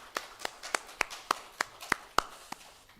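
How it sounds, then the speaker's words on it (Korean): Scattered, evenly spaced hand claps, about ten sharp and fairly close, ring out in a Korean Presbyterian church in South New Jersey during Sunday worship. Between them is a quiet room with no speech. "우리 박수로 한번 격려하겠습니다."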